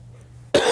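A single sharp cough bursts out near the end after near silence, loud and close.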